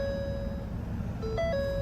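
A 2013 Ford Fusion Titanium's door-ajar warning chime, a clean electronic tone sounding steadily inside the cabin, then briefly stepping through a few different pitches before settling back.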